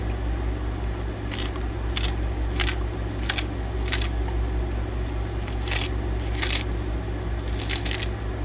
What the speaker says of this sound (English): Scissors is an easy way to chop a lot of these quickly